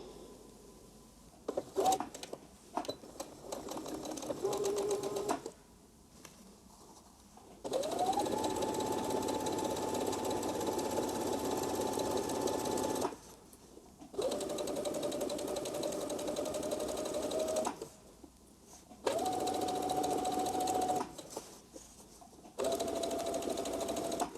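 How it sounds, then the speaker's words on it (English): A sewing machine stitches around a skirt pocket piece in several long steady whirring runs, broken by short pauses and small handling clicks, loud and close with no talk. "then you're going to sew around the pocket piece"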